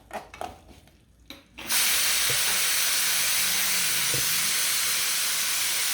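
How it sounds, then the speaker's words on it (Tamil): Masala spices with ginger and garlic hit hot oil for chana masala gravy, a few quiet clinks first, then a sudden loud, continuous hissing sizzle that holds steady to the end. "இதில் இப்போ இந்த மசாலாக்களை எல்லாமே நம்ம போட்டு நல்லா ஃப்ரை பண்ணிக்கலாம்."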